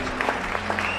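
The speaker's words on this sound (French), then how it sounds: "Acclame la parole de Dieu." A church congregation claps during a fasting and prayer service, a brief steady burst of applause filling the room.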